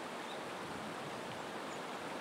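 The Susobana River flows through mountains near Nagano with a steady, broad rush of water that holds an even level throughout, and no voices are heard over it.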